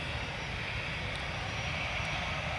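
A fixed-wing plane departing an airport, its engine a low steady rumbling roar throughout with a broad wash of noise above, heard from a distance and fairly faint, with no talk.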